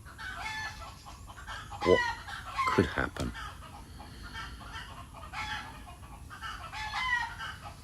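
Hens clucking and squawking nearby with a rooster crowing, a busy farmyard chorus in Thailand, while someone speaks briefly over it.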